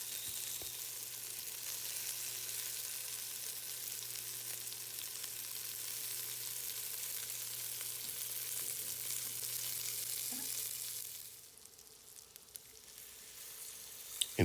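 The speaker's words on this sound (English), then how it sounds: "you're going to kind of fry down your onions for about 3 to 5 minutes" Onions fry in a pan for a pot roast, a soft, steady sizzle that continues evenly before dropping away near the end.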